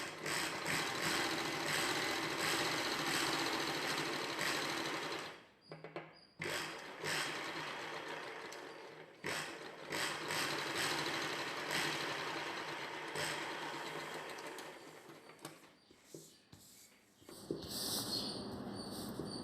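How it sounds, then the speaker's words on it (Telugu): A sewing machine stitches a collar neck dress, its needle mechanism whirring in steady, close runs that stop briefly several times and then start again. "మధ్యలో ఈ మార్కింగ్కి ఇటువైపుగా ఇంకొక కుట్టు వేసుకోవాలి."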